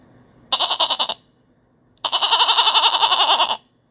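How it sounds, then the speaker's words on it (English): A goat bleats twice, close and loud: a short wavering call, a pause, then a longer quavering bleat, with nothing else around it. "Goat bleats."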